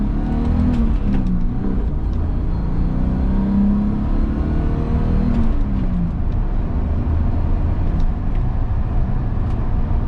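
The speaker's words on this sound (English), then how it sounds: "So now that we're up to temp, I'm gonna drive it a little harder." A 1982 BMW 633CSi, engine warmed up, driven hard with a steady loud engine drone and rising revs as it accelerates, heard from inside the car with no talking.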